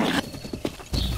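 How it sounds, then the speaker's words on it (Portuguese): Horse hooves clip-clopping in a Zelda video game, a few quick hoof beats over game ambience, brief and close. "consegui conquistar o cavalo"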